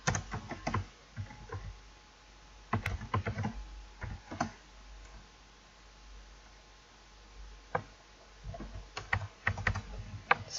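Typing on a computer keyboard while writing C++ functions, with bursts of quick, close keystrokes separated by short pauses and a steadier run of clicks near the end.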